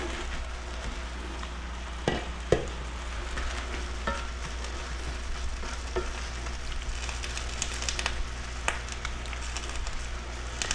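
Chicken sizzles and fries in a pan with a drizzle of extra virgin olive oil, a steady close crackle with a low hum beneath and a few sharper pops and clinks along the way.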